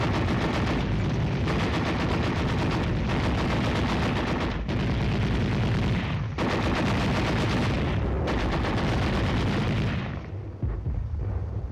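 Enemy gunfire during a night tank operation: dense, continuous bursts of loud firing and heavy booms rolling one after another, briefly breaking between volleys, fading at the end.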